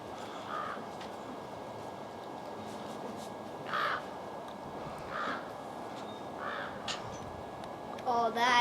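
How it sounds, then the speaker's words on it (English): Several short crow caws ring out at intervals during a fight with a hawk, moderately close over a steady outdoor background hiss, with a brief harsher burst near the end. "I think the hawk's trying to get a good advantage to get the crow."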